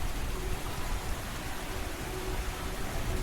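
Heavy rain pours down with cold wind, making a dense, constant hiss that fills the whole moment at an even, loud level with no voices.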